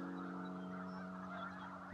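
A large flock of snow geese honking together in an open field during migration, a steady dense chorus of overlapping calls at moderate distance, with no talk.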